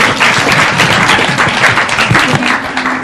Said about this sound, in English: everybody give a round of applause for Al Sanchez